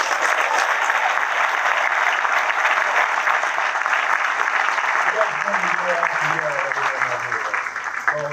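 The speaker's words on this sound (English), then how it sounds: "Let's give him a round of applause." A crowd applauding at a military change of command ceremony, steady dense clapping throughout, with a voice starting to speak over it near the end.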